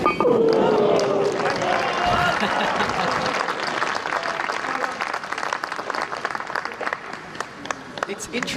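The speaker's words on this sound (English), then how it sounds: "It's interesting listening to the crowds and the way that they react to the golf" Golf tournament gallery at the final round of a women's professional event in Japan applauding loudly, sustained clapping that slowly thins out, with a commentator talking over it.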